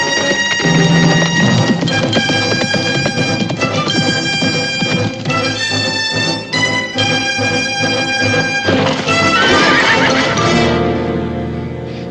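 A horse neighing loudly and repeatedly over a sustained musical score, with whinnies stacked through the full stretch and a final strong neigh near the end.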